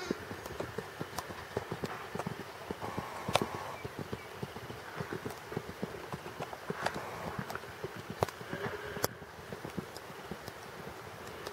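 Hooves of a cantering horse clip-clop in a steady, fast rhythm, moderately close, over light wind noise on the microphone.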